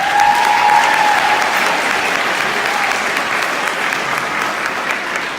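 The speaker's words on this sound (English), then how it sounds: "they do deserve a round of applause for that" A school sports awards crowd gives a round of applause for a team that reached the playoffs and finished in the top four. The clapping is loud, dense and sustained, with a faint whistle-like tone early on.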